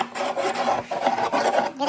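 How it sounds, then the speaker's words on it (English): A screw tip scratches a circular trace into a wooden board, a steady rasping scrape that pulses with each push of the hand, close and continuous with no talking. "I'll scratch all the way around and it'll make a trace for me"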